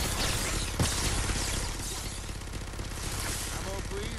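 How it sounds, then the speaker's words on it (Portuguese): Dense, continuous gunfire from the video game Fortnite Save the World, including sniper shots with 12-gauge ammunition, rattling in rapid bursts with a sharp louder crack early on, under players talking. "ele tá dando vários tiros nesse cara aqui"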